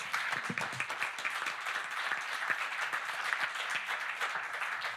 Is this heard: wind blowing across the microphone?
no